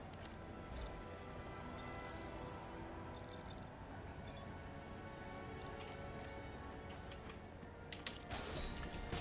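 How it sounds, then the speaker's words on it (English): Faint, fairly distant clicking of keys on a DAS computer keyboard, sporadic taps over a steady background hum. "I think it's a DAS keyboard."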